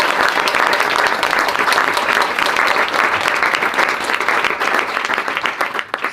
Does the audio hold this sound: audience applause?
yes